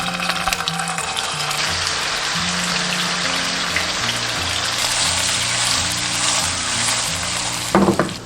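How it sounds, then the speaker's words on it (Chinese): Persistent crackling and spitting of tofu pan-frying in oil over medium-low heat, close and fairly loud, with a low steady hum beneath and a brief clatter at the end. "下豆腐中小火慢煎"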